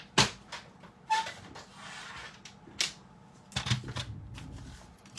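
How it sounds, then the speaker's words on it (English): A paper cutter slicing card stock, a series of close, quiet scraping swipes and light clacks with brief shuffling handling noises between them. "So now let me just bring my cutter in."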